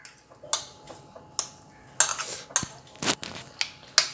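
A spoon clinks and scrapes against a bowl while food is mixed, giving about a dozen irregular sharp taps and clatters over quiet background, close and fairly loud.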